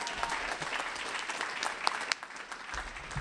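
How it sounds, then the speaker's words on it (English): A conference audience at the 5th Annual Northeast Earth Coalition Conference claps for the founder, a lively, continuous round of applause with a few sharp louder claps standing out near the end. "let's get a big round of applause for the gentleman that has made this all possible for 5 years"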